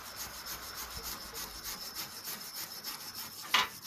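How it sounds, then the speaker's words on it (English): A wire brush scrubs rust off metal parts being prepared for citric acid rust removal, giving a steady close rasping rub with rhythmic strokes and a sharper scrape near the end, with no talking. "So you just scrub away at them."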